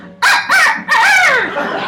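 A woman singer imitates a rooster's crow in a lively musical number, two short rising calls followed by a longer drawn-out crow, loud and close.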